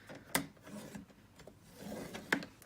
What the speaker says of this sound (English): So 1 inch, turning it around, scoring again at the 1 inch mark.